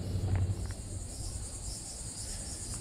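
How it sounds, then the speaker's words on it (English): Cicadas drone in a continuous, even buzzing chorus along a scrub trail near the Jupiter Inlet intracoastal, moderately distant and steady with no voices. "Those are cicadas."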